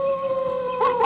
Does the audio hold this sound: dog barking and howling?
yes